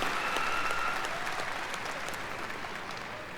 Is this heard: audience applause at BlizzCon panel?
yes